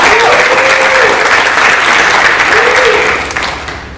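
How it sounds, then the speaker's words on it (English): A room full of people at an environmental summit in the Atlanta Conference Center applauds with steady, dense clapping that fades toward the end, and a voice briefly speaks over it. "Can I get a round of applause for that?"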